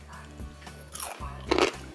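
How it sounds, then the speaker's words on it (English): Crunchy bacon on a double bacon-jam cheeseburger cracks loudly under two or three close bites, with chewing crunch in between. "Oh my god, it's so crunchy. The bacon's too crunchy."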